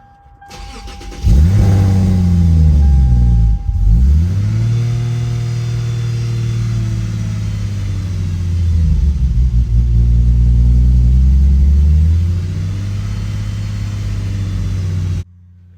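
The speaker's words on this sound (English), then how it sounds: "Gonna turn on the car." Lexus IS350 with a newly installed E85 fuel pump starting up: starter crank, then the engine catches with a loud rev and settles into a steady idle rumble, swelling briefly in the middle before easing down.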